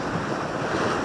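Sea waves wash in a steady, close roar mixed with wind buffeting the microphone while out fishing on the water.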